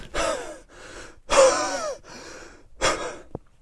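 A voice imitates panicked swimming breaths: three loud, heavy gasps in a row, each followed by a quieter breath out, fairly close and with no talking.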